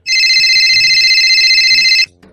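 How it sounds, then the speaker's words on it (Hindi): A mobile phone ringing left behind by its owner: a loud, steady electronic ringtone warbles for about two seconds and then cuts off abruptly, with faint low voices underneath. "अरे ये किसका फोन आ रहा है इस लोग के फोन पे?"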